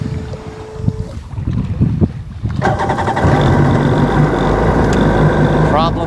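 Sea-Doo XPDI jet ski engine cranking over and catching amid wind noise, then settling into a loud steady running roar outdoors on the water, with someone speaking briefly before the start.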